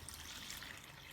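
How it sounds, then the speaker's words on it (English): Water added all at once to a bowl of dry bagel dough mixture, heard as a soft, continuous pouring trickle close by, fairly quiet and steady, with nobody speaking. "Then we go ahead and we add our water."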